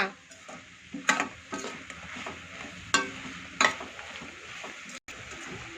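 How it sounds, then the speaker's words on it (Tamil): Tomatoes with salt sautéing in a pan for tomato chutney, a soft sizzle under repeated scraping stirs and a few sharp spoon knocks against the pan, close up and without talk. "தக்காளி நல்லா எப்படி வதங்கி வதங்கிருச்சு பார்த்தீங்களா"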